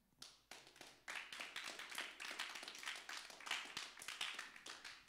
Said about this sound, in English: Maybe just clap who agrees.